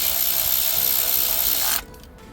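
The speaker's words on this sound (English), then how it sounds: "make sure that it's clicked in, and we install the bolt" A ratchet tightens a bolt after a Mercedes engine connector is clicked into place: a steady, close mechanical ratcheting that runs for nearly two seconds, then cuts off abruptly into quiet.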